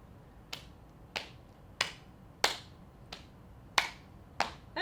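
Seven sharp hand claps in a seated dance routine for people with Parkinson's, spaced in a steady beat about two-thirds of a second apart, crisp and close with quiet room tone between.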